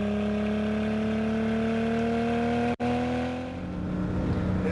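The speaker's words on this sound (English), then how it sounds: "It sounds like a race car." A 1000 rwhp widebody Toyota Supra race car engine running on Torco race fuel, a steady loud droning idle with a strong low hum, briefly cut by a sharp dropout midway.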